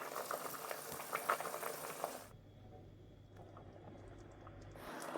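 Potatoes and bacon simmer in a pot of water, with a bubbling boil heard close for about two seconds before the sound shifts to a quieter, low steady hum and faint clicks.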